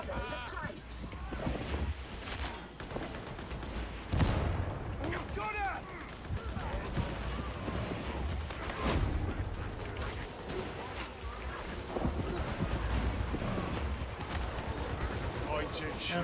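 Video-game gunfire cracks in repeated bursts and single shots mixed with mechanical clanks, some sharp and loud, heard under a player's ongoing talk and game voices.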